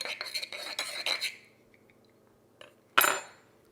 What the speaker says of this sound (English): combine a teaspoon of pure vanilla extract with a teaspoon of instant coffee and just whisk it together